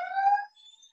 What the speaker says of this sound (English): we got sirens going by here